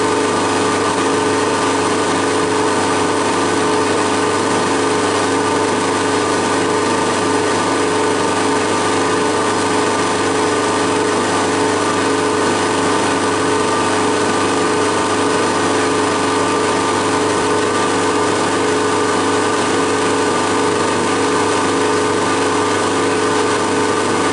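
A drill bores a 1.5 mm hole through a machined retaining rod, producing a constant, even motor drone with a dense grinding texture that holds unchanged for over twenty seconds, close and fairly loud.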